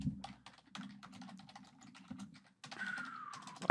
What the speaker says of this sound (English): I lied about being done typing.